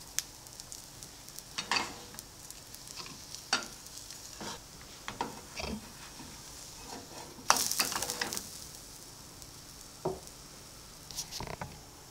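Vegan gluten-free pancake batter frying in a pan, a soft continuous sizzle dotted with irregular light pops and crackles, with occasional brighter bursts of spitting; close and fairly quiet, no talking.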